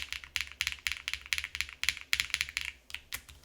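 Brisk clacky keystrokes on a Wuque Paper80 mechanical keyboard in a quick, steady rhythm, fairly close and clear, with no one speaking.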